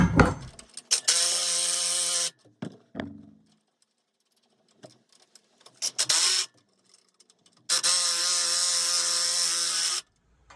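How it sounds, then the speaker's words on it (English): A ratchet wrench tightens 13 millimeter bolts in several loud, close bursts of rapid clicking, the longest about two seconds, with short knocks and quiet pauses between them. "Go ahead and get our 13 millimeter and tighten these up."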